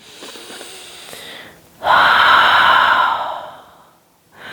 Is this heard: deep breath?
yes